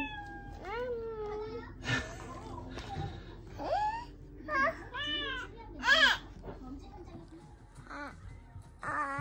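A string of high, wavering cat meows comes in short bursts with brief pauses, close by, mixed with a few other vocal sounds.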